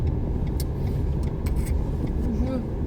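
Car engine running low and steady as it pulls out of a parking spot during a driving lesson, heard from inside the cabin with a mild rise in revs and a voice speaking over it.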